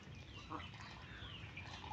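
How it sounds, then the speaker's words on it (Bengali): Ducks bathing and paddling in a farm pond, giving soft quacks over steady outdoor background noise with no clear talk. "দেখেন কি সুন্দর করে হাঁসগুলা গোসল করতেছে পানিতে"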